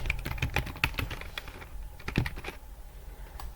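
Keys tapped on a computer keyboard while entering HTML code, a quick irregular run of close, crisp clicks with a brief pause partway through and no talking.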